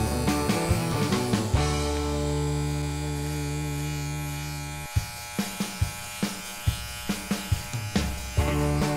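A 1960s Lady Remington electric shaver runs with a steady buzzing hum for about five seconds, then cuts off, leaving a series of light clicks and handling taps.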